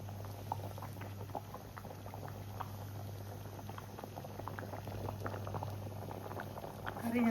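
Kerala pulinkari, a tangy curry, bubbling in a pot on the stove: a continuous soft, even simmer over a steady low hum, with faint sounds of people in the background.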